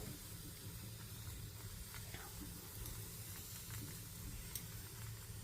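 Ghee sizzling on a hot tawa beside a cooking roti, a steady soft frying hiss that runs evenly throughout with faint crackles and no voices.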